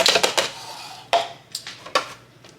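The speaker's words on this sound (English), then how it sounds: "put our ice in our blender" Ice cubes clatter into a blender jar for a homemade pumpkin spice frappuccino: a quick cluster of hard clinks, then a few scattered knocks, close and fairly quiet.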